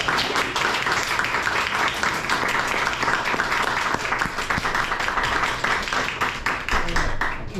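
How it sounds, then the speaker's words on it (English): Sustained audience applause fills the room after a presenter's talk at an Appalachian Studies Association conference session on race and health, dense and steady throughout with faint voices mixed in. "Can we get one more round of applause for our presenter?"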